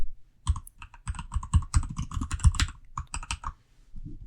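Rapid clicky keystrokes on a computer keyboard as an administrator username is entered, coming in close bursts with brief pauses, near and clear with no talking.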